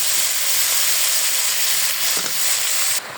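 Chopped bottle gourd goes into a hot pan of spice paste, giving a steady hissing sizzle of steam that carries on evenly and then drops off sharply near the end.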